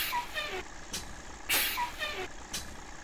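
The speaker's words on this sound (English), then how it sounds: "Oh, the parking brake, I forgot about that." An AmTran B800 bus in the Rigs of Rods driving game releases its parking brake: sharp hissing air bursts recur over a steady engine rumble, together with faint repeating beeps.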